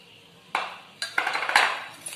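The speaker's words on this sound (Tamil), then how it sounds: "இதையும் நல்லா இந்த மாதிரி விஸ்க் வச்சு அடிச்சு எடுத்துக்கலாங்க" A whisk beats eggs and powdered sugar for cake in a bowl, giving a few sharp metallic clinks and scrapes in an irregular burst, close and moderately loud.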